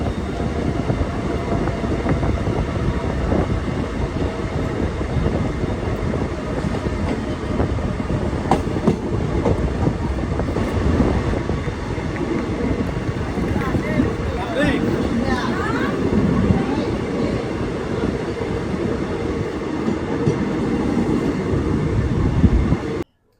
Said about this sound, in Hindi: 262 किलोमीटर का डिस्टेंस कवर करके हमारी ये खानदेश एक्सप्रेस कहाँ पहुँच चुकी है?